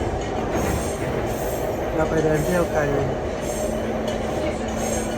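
Riding inside a moving train: a steady rumble of wheels on rails fills the carriage, with a faint squeal and tonal whine drifting in, while people talk over it.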